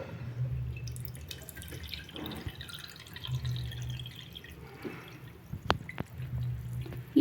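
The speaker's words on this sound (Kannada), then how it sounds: "ನಾವು ಈ ಲೋಟಕ್ಕೆ ನೀರನ್ನು ತುಂಬುವಷ್ಟು ನೀರು ಬಿಡಬೇಕು." Water from a Kangen water machine runs into a glass with a steady trickle, broken by a few sharp drips and clinks near the end, close and fairly quiet over a low machine hum.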